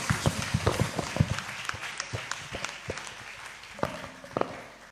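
Congregation at a Sunday church service applauding, with uneven claps and patters of hand percussion rising and thinning over several seconds.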